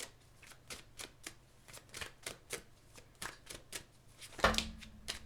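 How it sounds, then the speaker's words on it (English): Tarot cards are shuffled by hand, giving quick repeated riffling bursts in an uneven rhythm, close and fairly soft, ending in a brief thump. "So let's pull a preview card for you."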